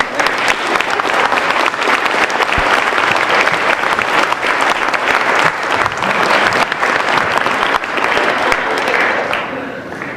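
Loud, sustained applause from a large crowd honoring veterans, service members and their families at a Veterans Day dining-in ceremony, dense continuous clapping for about ten seconds before tapering at the end.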